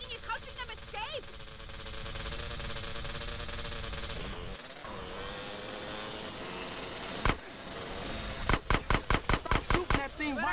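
Gunfire in GTA San Andreas: a rapid burst of sharp shots near the end, after one earlier single blast, all over game sound and a steady background hum.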